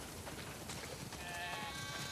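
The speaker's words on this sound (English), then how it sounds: "We definitely have way too many sheep." Sheep bleat faintly on a farm in the video game The Last of Us Part II, with a wavering bleat rising out of soft background ambience.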